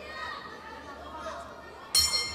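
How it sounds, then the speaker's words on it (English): A boxing round bell at the 2014 World Championships, in a women's 48 kg bout, rings out as one sharp, loud clang near the end, over a commentator's voice and a low crowd murmur. "Well, a great shot, but it was after the bell from Shamjetsabam"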